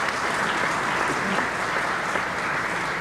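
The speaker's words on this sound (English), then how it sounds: "I'm pleased to hear the applause." Steady applause from a large crowd at the 1989 New York State of the State address, a dense continuous patter of clapping that holds at an even level throughout.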